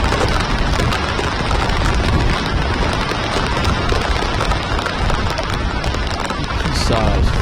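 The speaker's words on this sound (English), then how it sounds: "Sounds like hail." Small hail pelting down outdoors during a Long Island storm, a dense continuous rattle of tiny impacts, loud and unbroken, with no voices.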